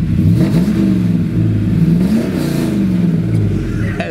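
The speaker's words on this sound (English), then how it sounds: "Let me crank it up and then walk behind so you can hear the crate motor purring." A 1939 Ford Deluxe convertible street rod with a small block Chevy crate motor revs close by, its growl rising and falling in several throttle blips over a steady rumbling idle, with no talking.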